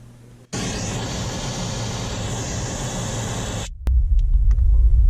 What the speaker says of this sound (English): play your pink noise, start measurement